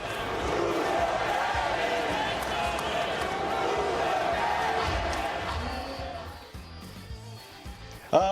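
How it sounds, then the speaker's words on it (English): A New York crowd at Yankee Stadium roars before a 2009 World Series game against the Phillies, a sustained dense clamor of cheering voices that thins out near the end. "he was greeted by the New York crowd before the game"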